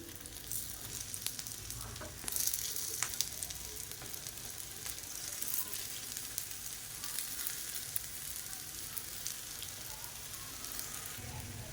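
Sweet appam batter frying in oil in a paniyaram pan, giving a continuous fine sizzle and crackle throughout, with a brief louder burst of spitting early on and occasional clinks, no talking.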